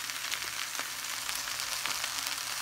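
Chickpea curry sizzles steadily in a hot pan as chatpati masala goes in, a bright, even frying hiss with small pops and no voices.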